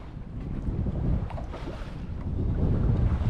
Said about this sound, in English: Wind picking up now again